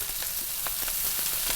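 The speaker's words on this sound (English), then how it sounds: "Good and hot skillet going on." Green onions sizzle in olive oil in a hot skillet, a steady bright crackle with small pops and stirring scrapes, close and constant.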